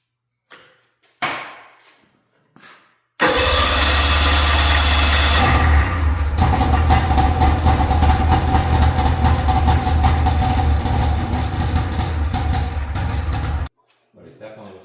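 A 1991 Jag snowmobile engine fires up after a few brief knocks and runs steadily and loudly at a rough idle for about ten seconds before cutting off, with short voices before and after.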